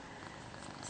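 A cat purring close up, a soft continuous rumbling drone that holds steady and low in level for under a second, with no voices over it.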